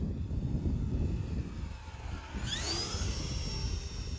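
An E-flite Turbo Timber Evolution 1.5m RC airplane with a new propeller flies some distance away, its electric motor and prop a faint whir that rises into a higher whine partway through as it turns downwind.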